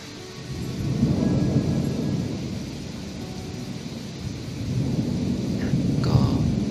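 Night thunder rumbles low and heavy over light rain in Sattahip, two broad rolling swells with a steady wash of rainfall between them and no voices.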